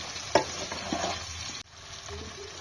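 Thick vegetable stalks fry with potato and eggplant in a pan, a steady close sizzle with a couple of stirring scrapes, briefly dipping before the hiss continues.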